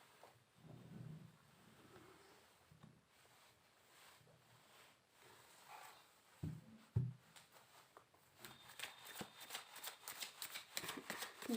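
Tarot cards are shuffled by hand, soft and close at first, then building into rapid, brisk riffling bursts toward the end.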